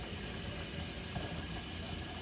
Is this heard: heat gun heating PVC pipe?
no